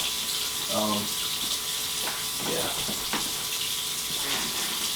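Hot water runs from a tap into a tub, a steady hissing splash heard close up throughout, with a brief voice and a few knocks in between.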